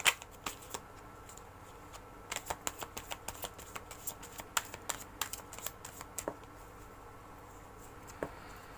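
Playing cards shuffled by hand during a tarot-style card reading, a close run of crisp riffling clicks and soft slaps in irregular bursts, with no talking.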